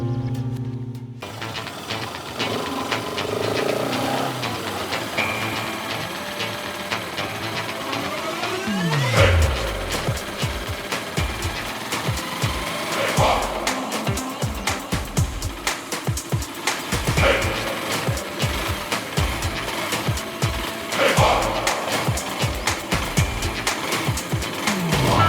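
A motorbike engine runs steadily while riding, a continuous mid-pitched drone with shifting revs and a few louder surges, close and loud throughout with no talk.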